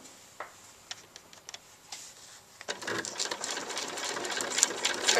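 Sewing machine stitching a fabric applique, beginning with scattered soft clicks and taps, then settling into a steady fast mechanical whir and rattle as the needle runs, close and clear.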